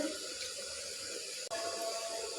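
Tap water running steadily into a sink as meat is rinsed, a quiet continuous rushing stream with a brief dip near the middle, heard close with no talk.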